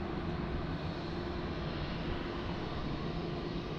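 Steady, dense engine roar of a TAP Air Portugal Airbus A320 at Lisbon Airport, a continuous broadband rumble with no break, fairly loud and unchanging throughout.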